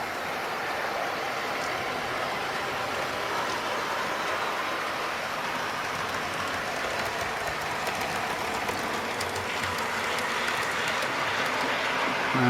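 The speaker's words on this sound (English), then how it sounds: "we might as well see the old class 20 come through once more" A class 20 locomotive on a model railway runs past with a steady rolling rattle and faint clicking of wheels on track, continuous and fairly quiet throughout.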